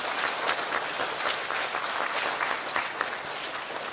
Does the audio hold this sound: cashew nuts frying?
no